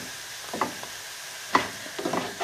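An Indian-style vegetarian galette cooks in a pan with a soft, low sizzle, broken by a few brief scraping and tapping sounds as it is turned and pressed.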